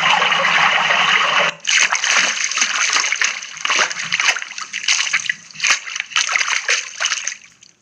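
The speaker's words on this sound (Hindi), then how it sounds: "पानी में चलते हुए आदमी की आवाज़" Water splashes and sloshes as a man wades through it, a dense continuous splash at first, then a series of separate sloshing steps and splatters close by with no voices.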